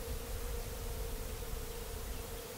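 Honeybees at an open hive hum in a steady, dense drone, the buzz close and continuous with no voices over it.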